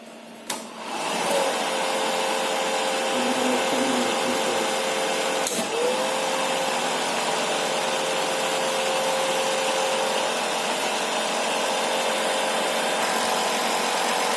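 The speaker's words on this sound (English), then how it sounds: "the motor is running, it's making all this noise, and it's driving the generator" An electric motor driving a shunt DC generator in a lab setup, starting up with a click and then running at a loud, steady drone with a constant whine, a brief click midway, no talking.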